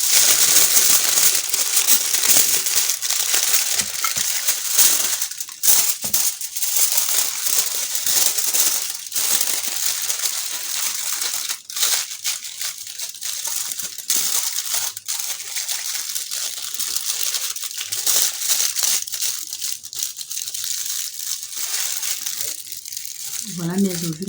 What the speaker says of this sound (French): je vais emballer mes ovules que je vais aller déposer au congélateur